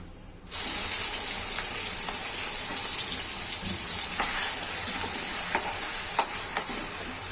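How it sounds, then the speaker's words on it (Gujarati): Whole spices sizzle steadily in hot oil in a pan while making a corn and capsicum curry, a loud continuous hiss starting abruptly with a few faint clinks and stirring scrapes over it. "હવે આપણે થોડો ખડા મસાલા નાખીશું."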